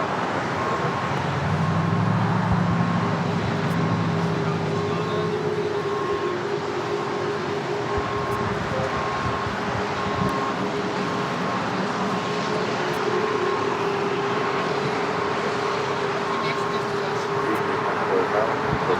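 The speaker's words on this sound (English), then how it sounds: "that Delta 757 at 300 now rolling down, heading to Atlanta" A Delta Boeing 757 makes its takeoff roll at LAX, a steady, loud jet roar that holds throughout with a faint engine whine rising slightly in pitch.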